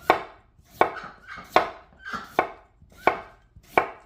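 A knife chops through raw, unwashed potatoes on a board, six sharp evenly spaced cuts close up with no voices.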